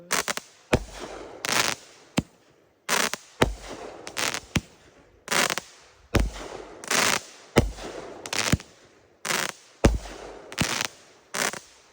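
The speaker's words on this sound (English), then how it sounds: "We have Miles of Smile. It's by Raccoon Fireworks." Miles of Smile fireworks from Raccoon Fireworks go off outdoors in a loud, rapid series of sharp bursts and crackling shots, each pop followed by a short hiss, with brief gaps between volleys.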